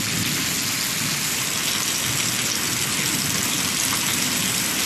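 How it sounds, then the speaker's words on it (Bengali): Heavy rain from a storm in a district of West Bengal pours down as a dense, constant hiss with no breaks, with a low rumble underneath and no talking. "শহর কলকাতায় যেমন ঝড় বৃষ্টি শুরু হয়েছে"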